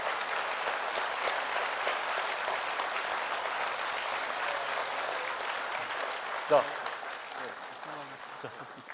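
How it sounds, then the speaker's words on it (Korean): Audience applause at a Bareun Party presidential primary debate in the Yeongnam region, a steady dense wash of clapping throughout with a single sharp knock near the end and faint speech beneath. "뜨거운 박수 한번 부탁드리겠습니다"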